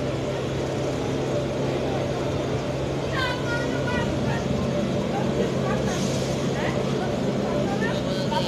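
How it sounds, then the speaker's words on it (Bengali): A stationary engine runs with a constant low droning hum and rumble, steady throughout, while people talk nearby over it. "ইঞ্জিন মনে হয় ঘোরাচ্ছে।"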